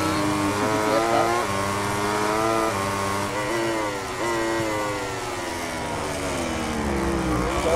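Yamaha and Suzuki MotoGP bikes race at Le Mans in MotoGP 18, their high engines whining and rising and falling in pitch as they run close together. The engine noise is loud and continuous.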